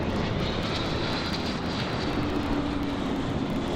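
A DHL Airbus A300 jet at Amsterdam airport gives a loud, steady, broadband engine roar that holds unbroken throughout, with a faint whine rising beneath it late on; no voices.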